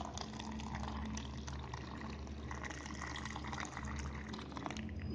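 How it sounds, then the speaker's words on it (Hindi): Cold water pours steadily into a blended musk melon paste for a chilled kharbooza sharbat, a continuous close splashing fill lasting the whole stretch with no voices over it. "अब इसमें ठंडा पानी डालेंगे।"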